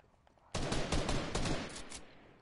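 A sudden, loud burst of rapid automatic gunfire in Fortnite, a dense string of close shots lasting about a second and a half before cutting off.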